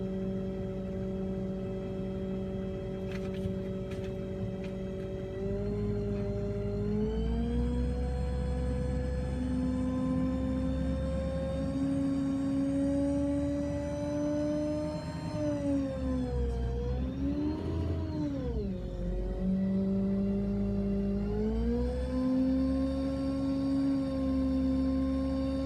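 A Ford F550 hooklift truck with a Stellar lift engine runs with a steady whining hum while the hook arm lifts, its pitch rising, dipping and climbing again as the engine revs under load, loud and continuous throughout.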